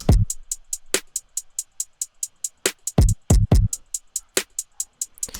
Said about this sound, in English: Simple snare and a sort of stabby sound.